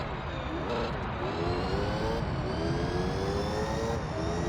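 Car engine in the racing video game Gran Turismo 3, a loud continuous high-revving drone with rising harmonic sweeps as gears shift, steady throughout.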